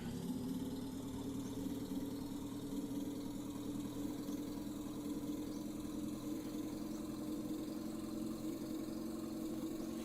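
A video game sedan fitted with eleven engines runs at a steady, dense full-throttle drone with layered engine tones holding constant throughout, no voices.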